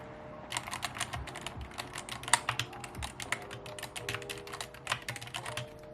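Rapid, sharp clacks of a clicky computer keyboard being typed on, close and fairly quiet, with irregular bursts of keystrokes and no voices.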